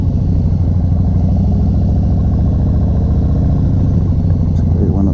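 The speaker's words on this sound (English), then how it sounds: "V-twin sound, just that plod" A 2019 Harley-Davidson Softail Slim's V-twin engine idles with a loud, close, steady lumpy plod, its uneven rhythmic pulses continuing unbroken.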